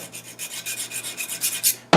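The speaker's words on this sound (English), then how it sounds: "I'm just rounding off a small portion here of the hammer strut itself." Metal file rasping rhythmically across a 1911 pistol hammer strut to round off a small portion, about a dozen close, steady strokes with no voices.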